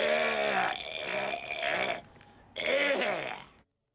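A loud, drawn-out human burp rumbles for about two seconds, with a shorter second belch after a brief pause and then silence.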